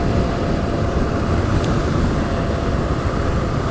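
A 2016 Zero DSR electric motorcycle running at freeway speed, heard as a loud, unbroken roar of wind and road noise with a low, steady drone and no speech.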